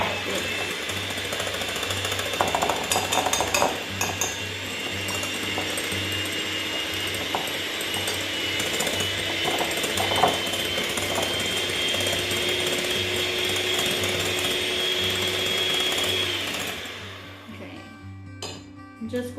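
An electric mixer whips meringue egg whites with a loud, steady mechanical whirring grind and rattling whisk, running continuously before switching off near the end.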